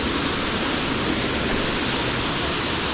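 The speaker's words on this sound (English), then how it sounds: "That'll be probably the third waterfall up there." A waterfall in the Bali jungle gives a steady, dense roar of falling water that holds at an even level throughout, with no talking.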